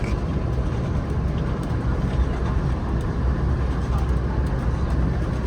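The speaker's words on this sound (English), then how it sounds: "Regardez-moi ça, je suis dans le train là." Steady rumbling roar of a train rolling along the rails through fields in Ontario, a continuous dense noise with no breaks, heard from inside a moving carriage.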